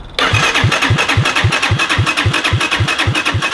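A 200cc shifter kart engine catches and starts, jumping straight into a loud, close, rapid pulsing rattle that holds steady without any talking.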